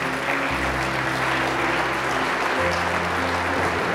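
Audience applause at a real estate social impact investing award ceremony, a broad, continuous wash of clapping from a seated crowd over a steady low hum, even and sustained for the whole stretch.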